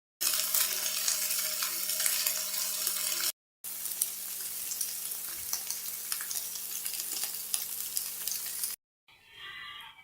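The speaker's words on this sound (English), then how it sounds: "So there we go, we have browned our meatballs." Meatballs browning in a hot frying pan, a bright, dense, steady sizzle heard close up, briefly cut off by two short gaps and ending in a quieter fizzing.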